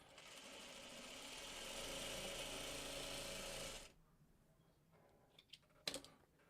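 A sewing machine runs in a steady, close mechanical whir for several seconds, then stops, leaving quiet room tone with a few small clicks and handling knocks.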